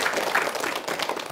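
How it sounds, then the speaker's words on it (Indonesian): Audience applause for a guest speaker at an Islamic religious talk, a short steady wash of clapping from a crowd, moderately distant. "Tepuk tangan untuk narasumber kita."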